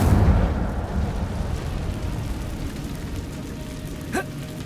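An Incendio fire spell is cast in Hogwarts Legacy with a loud fiery burst that fades into a rumbling tail, followed by a small pop a few seconds later.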